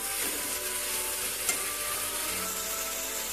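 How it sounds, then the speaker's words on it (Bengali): Pre-boiled banana blossom cooking in a pan, giving a continuous dense sizzle with a soft stirring rustle running through it and one small tap midway, close and steady with no voices. "দেখুন, এভাবে নাড়তে নাড়তে মোচাটা আমাদের রান্না হয়ে আসবে"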